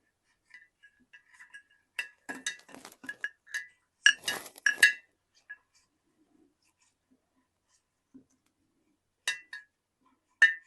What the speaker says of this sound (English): I'm just going to stir this in a little bit.